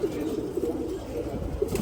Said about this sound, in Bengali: ভাইয়ের কাছে বেশ কিছু কালারিং কবুতরও আছে